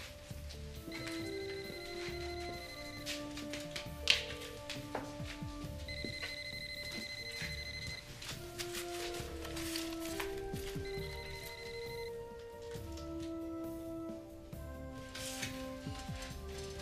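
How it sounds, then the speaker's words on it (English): A cell phone rings at a crime scene in a thriller film, a steady repeating electronic ring pattern continuing throughout under faint background noise and soft ticking. "One of their cell phones is ringing."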